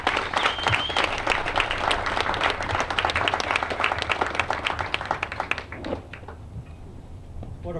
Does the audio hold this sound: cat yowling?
no